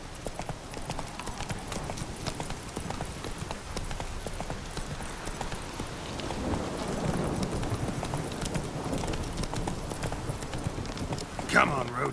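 The horse Roach gallops in a video game with steady, rhythmic hoofbeats throughout, growing slightly heavier midway, and a brief louder burst near the end; a voice is heard talking over it.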